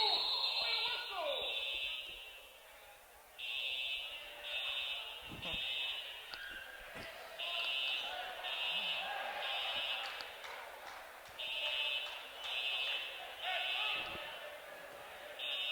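A fire alarm sounds in a high school gym during a boys' basketball game, its loud, steady pulsing beeps repeating in regular bursts over crowd noise and a commentator's voice.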